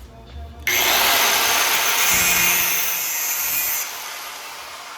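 A power saw bites into a front-end part for an independent front suspension on a 1946 Ford coupe, a loud, steady cutting whine that starts abruptly, holds for about three seconds, then stops.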